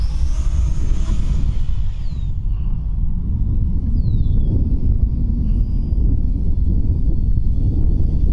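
Steady wind buffets the microphone outdoors while an RC plane flies, a loud, continuous low roar that never lets up, with a faint whine riding over it.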